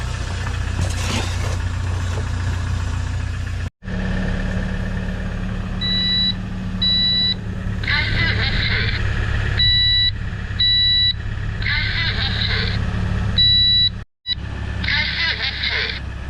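A carbon monoxide alarm, placed at a vehicle's exhaust pipe with the engine running, sounds repeated sharp high beeps in bursts over the steady low rumble of the idling engine.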